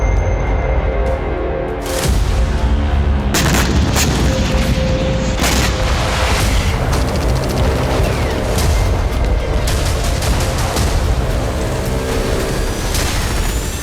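Missile strikes in Crimea produce loud, continuous booming and rumbling explosions, with sharp blasts standing out over a dense, roaring background.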